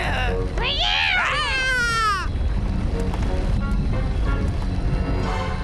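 A cartoon cat from Boonie Bears lets out a couple of loud, rising and falling meows up close, followed by busy background noise and rumbling with no clear further calls.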